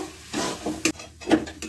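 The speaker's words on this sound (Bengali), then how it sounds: "এটাকে আমি এখন ভালো করে মিশাতেই থাকব।" Taro root bharta is stirred in a pan, with uneven scraping strokes and light clatters over a low sizzle, close and moderately loud.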